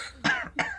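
A voice imitates a cough: two short, breathy bursts about a third of a second apart, close and moderately loud with nothing else around them.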